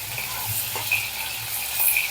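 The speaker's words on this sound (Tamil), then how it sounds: "எண்ணெயிலேயே நல்லா வேகட்டும் கருவாடு." Dried seer fish fries in hot oil in a pan with a steady, close sizzle and soft bubbling, one faint stirring touch, and no talking.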